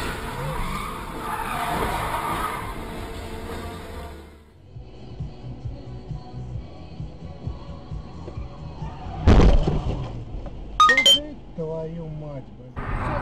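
A car on a Russian road skids under hard braking, tires squealing loudly, then a sharp clink and more squealing bursts near the end, with excited voices talking over it.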